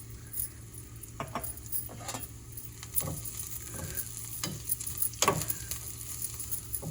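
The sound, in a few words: frying curry with spice powders in a pan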